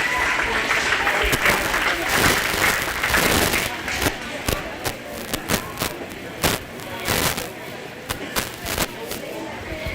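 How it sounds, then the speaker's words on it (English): Applause from a county fair livestock show crowd, dense and sustained at first, then thinning into scattered claps that fade out over ten seconds in an open arena. "But please give them all a round of applause."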